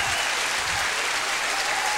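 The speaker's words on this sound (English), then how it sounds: "I'm sure she's applauding for the state record" A crowd applauds steadily and loudly for a swimmer's state record at the 1992 IHSA girls swimming and diving state finals. The clapping is dense and continuous throughout.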